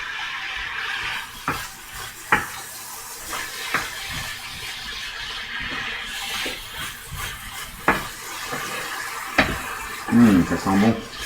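Apples starting to cook in butter and maple sugar in a pan over fairly high heat, a low sizzle with scattered utensil knocks and scrapes, and a voice speaking at times.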